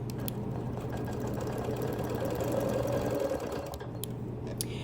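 A sewing machine runs steadily while ditch quilting a pieced quilt, a continuous close mechanical whir with a constant low hum and faint rapid needle ticking, no pauses or voices.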